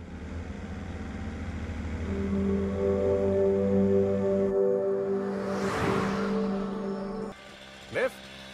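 A car driven on a road, its steady engine hum rising gradually in pitch, then cutting to a quieter interior tone with a short bump near the end, with speech heard over part of it.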